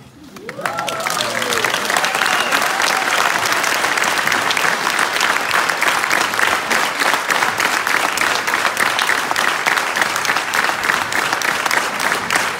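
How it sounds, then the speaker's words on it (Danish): Crowd in Tølløse applauding world champion cyclist Mads Pedersen at a hometown celebration, sustained loud dense clapping from many hands that swells quickly and holds steady without letup. "så er der blevet klappet"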